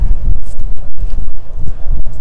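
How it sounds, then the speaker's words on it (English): Strong wind gusts buffet the microphone at an outdoor college baseball field during an afternoon game, loud rumbling bursts with brief lulls between them. "Wind starting to pick up again."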